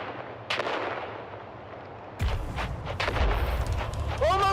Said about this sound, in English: On 3, we grenade and move. 3, 2, grenades out!